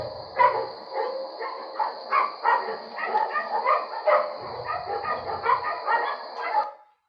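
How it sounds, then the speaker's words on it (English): Several dogs bark and yip at a doodle puppy mill in Tennessee, a dense overlapping chorus of barks at a steady distance with a constant high tone running beneath. "What's the latest that you've heard the dogs bark?"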